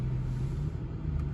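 A 2019 Porsche Panamera GTS rolls slowly up to a garage, giving a steady low engine rumble that stays close and even throughout a brief moment with no talk.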